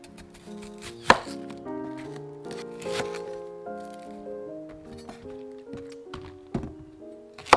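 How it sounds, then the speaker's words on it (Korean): Knife chopping onions and green onions into large chunks on a cutting board, irregular firm thuds and cuts up close, with soft background music. "양파와 대파를 큼직큼직 썰어주세요"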